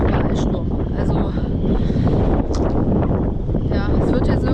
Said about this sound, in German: Es ist ja hier überall Sturm.